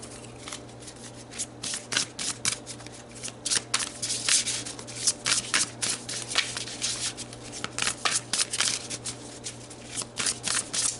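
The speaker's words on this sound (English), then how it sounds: "Let's pull some more cards." Tarot cards shuffled by hand, with repeated riffling and rubbing bursts in an irregular rhythm, close and fairly loud, with no talking.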